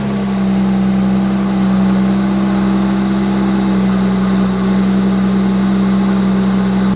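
An Infiniti Q50 fitted with new aftermarket intakes and a heat exchanger idles steadily after starting, a loud, close, constant low engine hum and drone without revs or talking.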